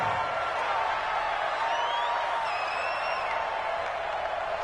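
Stadium crowd in a Madden football game at a Buffalo Bills versus Kansas City Chiefs matchup, a steady wash of cheering and roar with faint whoops, continuous and fairly loud.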